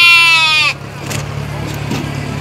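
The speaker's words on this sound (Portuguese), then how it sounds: "as cabritinhas são brabinhas" A goat or sheep bleats loudly and close at an outdoor livestock fair in Pesqueira, Brazil, one long harmonic call that breaks off into murmuring crowd and traffic noise.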